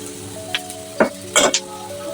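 Capsicum stir-frying in a hot pan for chicken fried rice crackles with a sharp sizzle, punctuated by a few quick metallic scrapes and clinks of a spatula, close and loud.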